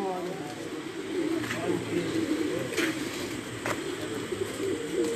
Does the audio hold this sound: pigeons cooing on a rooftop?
yes